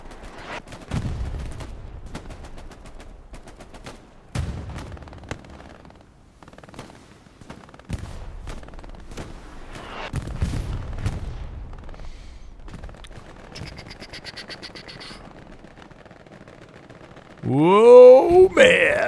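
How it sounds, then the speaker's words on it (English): Long range rocket and gunfire in Hell Let Loose, a World War II shooter, on the Omaha map: scattered distant booms and shots at irregular intervals, fairly faint, ending with a louder warbling burst of sound. "Rocket, long range rocket from Klinka."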